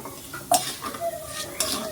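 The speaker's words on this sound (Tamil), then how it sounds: "2 தக்காளி போதுமான அளவு. நல்லா வறுபடட்டும்." Two chopped tomatoes fry in a pan and are stirred with a utensil: a steady soft sizzle with a sharp scrape and clatter near the midpoint and another near the end, close and alone with no voices.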